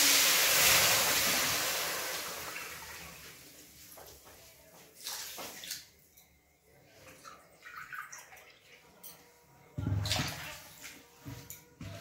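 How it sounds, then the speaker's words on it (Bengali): Three cups of water poured into a pot with sugar for semolina sweets, a loud rushing pour at first that fades, followed by scattered clinks and handling sounds, with a second brief splash later. "এবারে আমি 3 কাপ জল দিয়ে দিচ্ছি"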